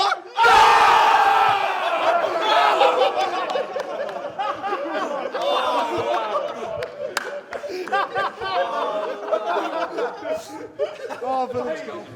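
A crowd at a rugby-themed event for the Six Nations opening round roars and cheers wildly, with whoops, shouts and laughter rising sharply and staying loud, mixed with excited voices throughout.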